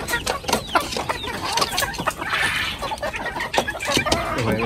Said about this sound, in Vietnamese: một con gà rất là đẹp